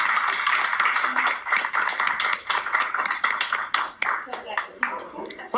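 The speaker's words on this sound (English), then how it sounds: "I think they deserve a round of applause." Audience applause at a county board of education meeting, close, irregular clapping from a modest crowd, thinning out toward the end, with voices talking over parts of it.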